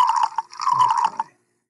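Water pours close by into a beaker in a short gurgling stream, briefly breaking then resuming before stopping abruptly, leaving silence, in a virtual lab simulation.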